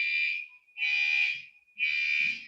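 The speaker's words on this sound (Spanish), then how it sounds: "Bueno, eso es la alarma de acá" During a fire system test, a building fire alarm sounds in three loud electronic bursts separated by short, quieter gaps of a thinner tone.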